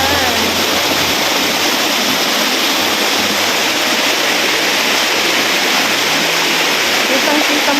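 Diguisit Falls in Baler, Aurora roars with a loud, steady rush of strong flowing water that fills the whole clip, with a faint voice low under the noise.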